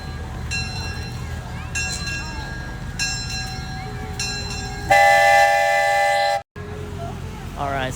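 A Christmas train at a farm rings a bell in repeated bursts, then gives a long loud horn blast while stopping at the station, with people chatting nearby.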